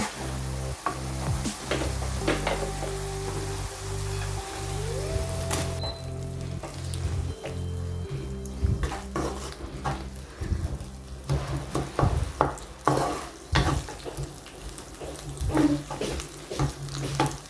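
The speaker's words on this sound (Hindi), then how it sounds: "जिंजर गार्लिक पेस्ट अच्छी तरह भून जाए" Ginger garlic paste frying in a pan for dhaba-style chana daal, a continuous crackling sizzle with repeated stirring scrapes and clinks, close and fairly loud, over a low background hum.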